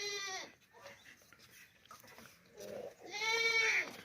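A plump, healthy young female goat bleats loudly twice, one wavering call at the start and a longer, strained cry near the end, with quieter rustling in between.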